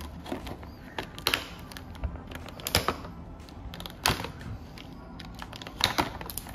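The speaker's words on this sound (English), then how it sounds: "Cut them open." Toy dinosaur packaging for a Jurassic World Eoraptor and Stegouros two-pack being cut open, with irregular crisp snips and plastic crackles at close range, no voices.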